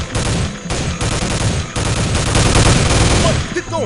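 Rapid, dense gunfire from a sniper attack in the Soldier of Fortune II: Double Helix video game, a loud sustained fusillade of overlapping shots that runs almost without pause, with a brief lull near the start.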